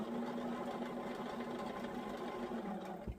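A sewing machine runs steadily as it stitches a quilt top, a continuous close mechanical hum with a faint knock, ending in a brief thump.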